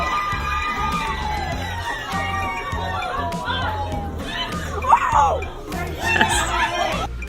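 A crowd cheering and shouting at a birthday party in a restaurant, with children's voices, laughter and bursts of excited yelling mixed with chatter, fairly close and lively.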